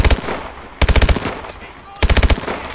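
Burst-fire gun in Call of Duty: Advanced Warfare fires three loud, close volleys of rapid shots, each tight cluster of four or five cracks separated by about a second of gunfight noise.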